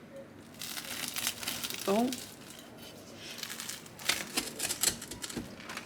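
A big kitchen knife crunches through crusty homemade focaccia topped with mozzarella. Close, dry crackling and crinkling comes in bursts, with a brief exclamation from a voice.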